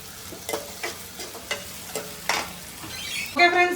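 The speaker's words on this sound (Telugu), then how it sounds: "ఉల్లిపాయలు అయితే వేగుతున్నాయి ఇంకొంచెం వేగాలి" Onions frying in oil in a pan, a close steady sizzle with repeated stirring scrapes in a regular rhythm, ending in a louder burst of sizzling.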